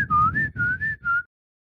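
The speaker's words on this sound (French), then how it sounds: "je sifflais un thème Zepho" A person whistles a short Star Wars theme melody, five clear close notes in a quick rhythmic phrase, then silence.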